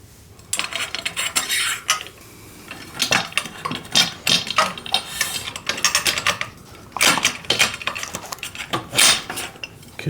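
Metallic clinks and clatter of pan-head bolts, flat washers and nylon nuts being handled and tightened while assembling a Granberg EZ Rail mill cross beam, in irregular bursts of close, moderately loud rattling with no talk.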